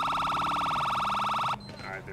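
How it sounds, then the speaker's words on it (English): A loud police siren in the video game GTA 5 pulses rapidly for about a second and a half, then cuts off abruptly, leaving a quieter tone and faint background noise. "I'm gonna put my sirens on here."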